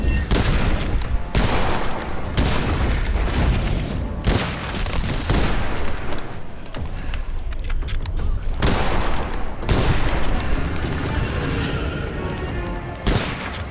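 Gunfire in the Witchfire video game, loud rapid bursts of shots in repeated volleys with short pauses between them, punctuated by heavy booms, with no talk.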